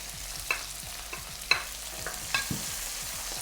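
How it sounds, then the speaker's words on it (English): Chinese sausage and garlic stir-fried for char koay teow, with a close spatula scraping and clanking against the pan in several sharp strikes over a steady sizzle. "Give this a good stir, guys."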